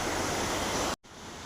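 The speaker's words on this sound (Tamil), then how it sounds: "எங்கெங்கேயோ தண்ணி போகுது." Mountain water rushing down near Jogini waterfall in Manali, a loud, broad roar of flowing stream that cuts out abruptly for an instant, then resumes somewhat softer.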